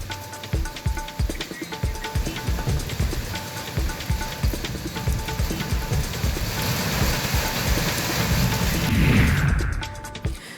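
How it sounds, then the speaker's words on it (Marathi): Unseasonal rain in Sangli district, falling as a steady loud hiss with scattered patters on surfaces, continuous for about ten seconds. "सांगली जिल्ह्यातील वाळवा आणि जत तालुक्यात अवकाळी पाऊस झाला."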